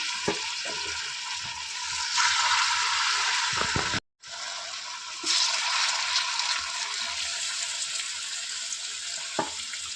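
Jute leaf fritters fry in white oil with a loud, steady hiss and crackle, broken by one brief silent gap and a few soft clicks.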